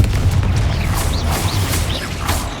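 Confringo spell explosion in Hogwarts Legacy inside the Feldcroft Catacomb, a loud, sustained rumbling boom with crackling bursts and a few light chimes layered over it.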